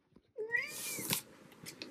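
A cat gives a single close meow with a rising, drawn-out call, fairly faint, with no voices over it.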